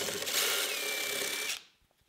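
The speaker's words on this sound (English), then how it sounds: "The concrete screws aren't wanting to come out." A power drill whines steadily at close range for about a second and a half while backing concrete screws out of a workshop floor, then cuts off into near silence.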